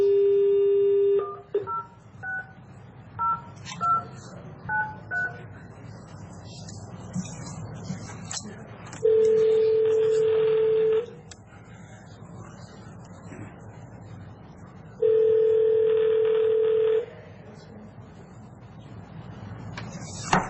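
A new office phone system at a Franklin County commissioners meeting gives a run of short dialing tones, then two long steady ringback tones several seconds apart, with faint room noise between.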